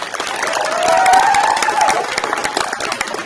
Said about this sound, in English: Let's give a round of applause for Brayden Simpson